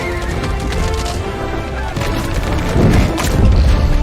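Horses neigh and whinny amid crashing and booming in a loud film action sequence where a team of horses drags an entire building, dense and chaotic throughout.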